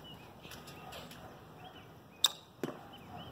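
An arrow is released from an old bow outdoors: a sharp snap of the string, then a quick thud of the arrow striking the target moments later, over faint background ambience.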